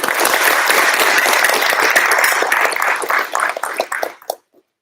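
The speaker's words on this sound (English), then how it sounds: "Give him a round of applause." Audience applause at a Lancaster FFA chapter awards ceremony, a dense, loud wash of many hands clapping that holds steady, then thins into scattered claps and stops near the end.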